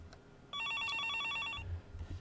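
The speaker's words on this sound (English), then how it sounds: "I stood there and watched the phone ring for a while." A telephone in the video game Higurashi rings with a bright, rapid electronic trill lasting about a second, standing alone in quiet room tone before low rumbling sounds follow.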